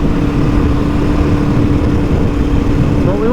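Suzuki DRZ400E motorcycle riding along a gravel forest road: a steady, close engine drone mixed with continuous crunching rumble and wind noise, without pauses.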